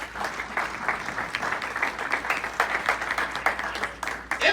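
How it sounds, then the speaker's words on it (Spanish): A church congregation breaks into steady applause, many hands clapping together in a dense, sustained wash that swells and dips slightly throughout, with no clear speech on top. "Denle un aplauso al Señor en esta hora"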